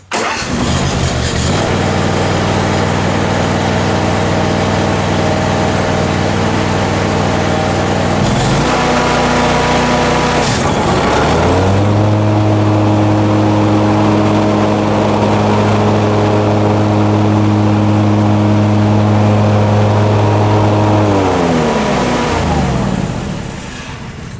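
A Simplicity lawn tractor engine without an auto choke, set at half throttle with the choke pulled, cranks over, catches and settles into a loud, steady close-up run with a throttle change partway through, no talking.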